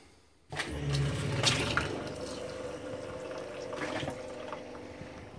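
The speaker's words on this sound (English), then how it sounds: "Now, you come up here and just turn on your pump. Use your water pump." A travel trailer's water pump switches on with a small click, and then liquid starts rushing steadily through the plumbing lines during winterizing. The hiss and flow stay close and fairly loud and continuous, with no voice.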